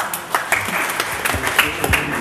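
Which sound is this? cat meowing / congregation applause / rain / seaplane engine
congregation applause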